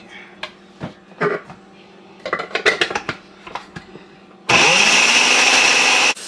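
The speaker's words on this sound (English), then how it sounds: "I'm just gonna like blend it up a little bit to put in there." A kitchen blender whirs loudly for about two seconds, blending red pepper, scallion and onion, after a stretch of clinking dishes and utensils.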